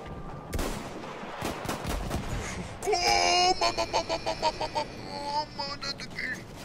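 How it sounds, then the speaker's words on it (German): Rapid Battlefield 1 gunfire from a bunker rattles in quick repeated bursts, a steady automatic stutter following some scattered single shots and clatter. "der Bunker schießt zurück."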